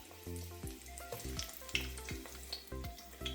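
Onions frying in hot oil for homemade crispy fried chicken, a steady soft sizzle with crackling pops, while a low rhythmic hum pulses underneath.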